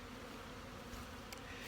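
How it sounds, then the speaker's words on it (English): A steady, dense buzz of many honeybees flying close by around hives on a calm sunny day, a continuous hum without pauses and no voices. "these bees are in full flight"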